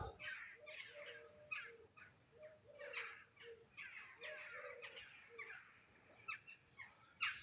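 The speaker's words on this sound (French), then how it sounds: "C'est plein de corbacs. C'est des corbacs tout ça là." A flock of crows flying over a house caws repeatedly outdoors, the harsh calls overlapping at moderate distance in irregular bursts.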